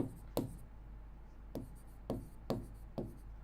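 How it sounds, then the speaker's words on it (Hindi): Chalk or marker strokes on a board while a teacher writes a vocabulary lesson: five or six short, separate scratchy strokes in an uneven rhythm, close and fairly quiet, with no talk. "यहाँ पर लिख देती हूँ।"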